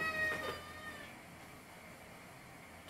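A cat meows once, a clear drawn-out call near the start, followed by quiet room background.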